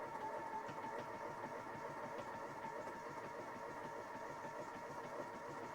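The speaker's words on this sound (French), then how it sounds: "démarreur ok, le moteur tourne ok" A Peugeot 405 Mi16 engine idles steadily just after its first start following a long rest, a low even rumble heard from nearby without pauses.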